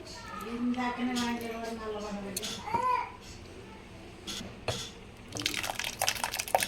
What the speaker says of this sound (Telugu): ఇప్పుడు చింతపండు వాటర్ అయితే వేస్తున్నాం ఫస్ట్